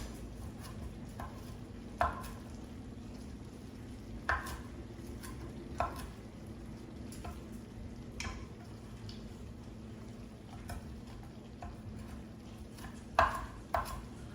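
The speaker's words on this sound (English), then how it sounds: "So now I'm gonna go in with a little bit of basil. So I'm gonna chop this up." Kitchen knife chopping fresh basil on a cutting board, irregular sharp taps spaced a second or more apart over a low steady background hum, close and fairly quiet.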